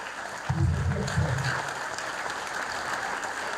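A church congregation at a thanksgiving service bursts into applause, a dense clatter of clapping hands that swells quickly and then fades into a low murmur of the room.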